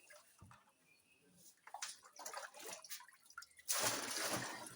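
A liquid soap mixture is poured into a bucket, heard as faint trickles and drips building to a steadier, louder splashing pour toward the end.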